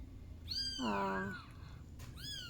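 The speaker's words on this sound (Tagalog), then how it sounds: "Ayan, ang ating pusa. Kuting pala, kuting." A 10-day-old kitten gives one clear, rising-and-falling meow close by, followed by a short, higher start of another cry.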